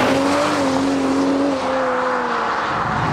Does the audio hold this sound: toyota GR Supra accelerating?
yes